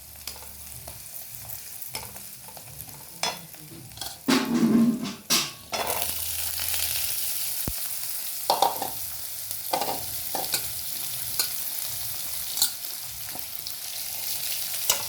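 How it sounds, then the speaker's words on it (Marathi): Drumstick pods (shevga) stir-frying in a pan of sautéed masala, a steady close sizzle with scraping stirs and occasional utensil clatter, no talk. "मसाला परतून झाला की त्यामध्ये शेवग्याच्या शेंगा टाकून घ्यायच्या."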